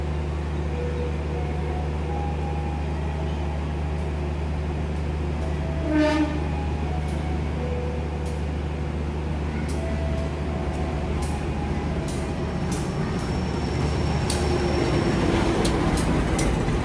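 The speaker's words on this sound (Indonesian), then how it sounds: "Ini adalah kereta api Serayu, kereta bersubsidi dari Purwokerto ke Jakarta via jalur selatan." Serayu subsidized passenger train running on the southern line between Purwokerto and Jakarta, Indonesia, with a steady rumble of rolling wheels and a brief horn note partway through, heard continuously for a long stretch.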